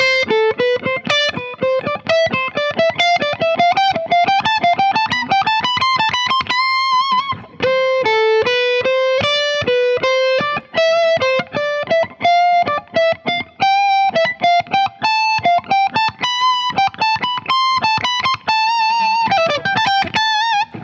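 A distorted electric guitar plays a slow run of picked notes, each one distinct, rising and falling in a melodic line with a short pause midway.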